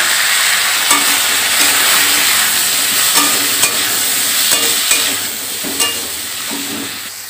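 Potatoes hit hot oil over onions already fried to a reddish brown, sizzling loud and steady throughout with occasional sharp spatter pops and stirring clinks, no voices.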